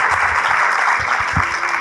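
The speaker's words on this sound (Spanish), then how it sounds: "quiero que le den un fuerte aplauso a la Universidad Interamericana por abrir las puertas." A church audience at the Universidad Interamericana gives a loud, dense round of applause, steady clapping from many hands filling the short moment.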